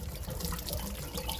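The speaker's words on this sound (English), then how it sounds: "take off the drain plug right there and let all the water out" Water draining out of an RV water heater after its drain plug is removed, a steady, close gushing flow with no pauses.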